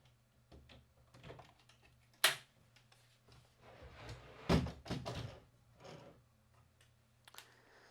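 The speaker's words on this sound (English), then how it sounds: "I'm going to show you how the lid slides in" The sliding pocket-door lid of a flight case, an athletic trainer's medical trunk, is worked by hand, giving scattered knocks and rattles with two sharp clacks as the lid seats and slides, close by and without talk.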